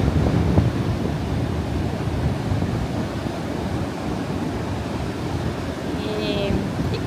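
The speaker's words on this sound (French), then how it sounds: "Et écoutez bien le bruit de la mer." Atlantic surf at Biscarrosse beach at sunset: a steady broadband wash of waves and wind noise fills the whole stretch, with a faint engine-like tone drifting in near the end.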